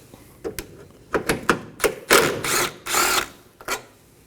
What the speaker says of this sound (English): move on to the corner of the headlight assembly and remove another 10mm bolt